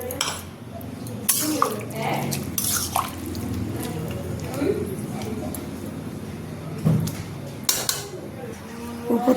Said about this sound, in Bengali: তো ঝোল করব, সেই জন্য একটু জল দিয়ে দিচ্ছি।